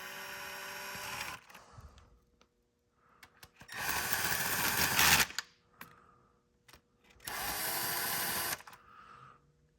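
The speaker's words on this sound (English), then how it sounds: "Now you have to drive the front screws first, or the front bolts." A power tool drives engine bolts during a rear main seal job on a Dodge Demon, Hellcat or SRT, in two loud bursts of several seconds each with short clicks and handling noises in the quiet gaps.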